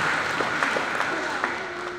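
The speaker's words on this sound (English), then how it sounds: "let's give them a round of applause for supporting him in his educational journey" A graduation ceremony audience gives a round of applause, a steady, even wash of many hands clapping throughout the short stretch, with faint voices underneath.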